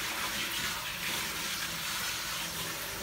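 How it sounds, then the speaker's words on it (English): Tap water runs steadily over celery being rinsed of baking soda after soaking, a continuous broadband splashing rush at moderate level with no talk. "rinse it off really good to get the baking soda"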